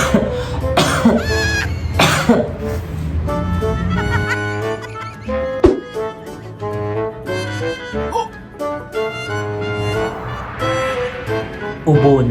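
Loud, exaggerated theatrical coughing from one close performer: a couple of harsh barking coughs open the clip, then strained, drawn-out vocal hacking and groaning follows in an overacted comic style.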